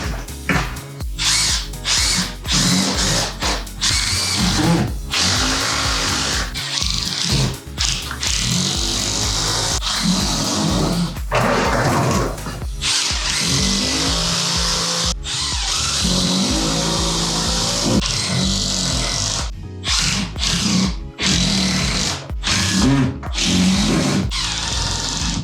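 A power drill drives 2.5-inch screws into OSB sheathing in loud, repeated bursts, whining up and cutting off in a choppy rhythm close to the listener.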